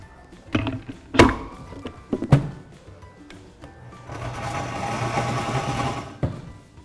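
An electric blender whirs steadily for about two seconds while blending a passion fruit drink, preceded by several clunks and knocks as the jar is handled, then a final thud.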